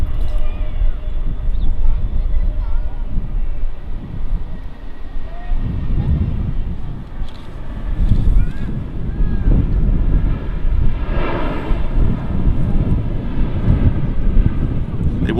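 EasyJet A320neo airliner landing at Manchester Airport, a steady broad roar of jet engines heard from a distance outdoors, swelling and holding throughout with wind buffeting the microphone.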